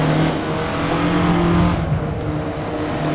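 A 1967 Russell Alexis Mk.14 Formula Ford racer in Assetto Corsa revs hard through a downshift, its engine note buzzing loud and close, rising and dipping as it takes a corner.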